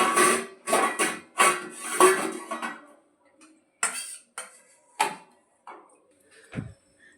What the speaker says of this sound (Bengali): গ্যাসটা বন্ধ করে দিলাম পাত্রে ঢেলে দিলাম